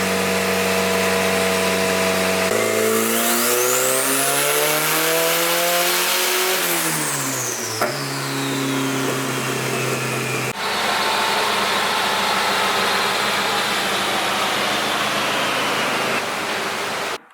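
A turbocharged car engine runs strapped to a dyno, loud and close, revving up steadily with a rising whine, then dropping back and holding a steady roar, with no talking.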